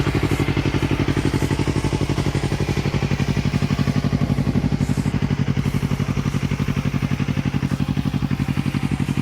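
A Yamaha R3 motorcycle fitted with an Akrapovic exhaust idles steadily at about 1500 rpm, a close, even, deep-toned pulsing beat with no voices.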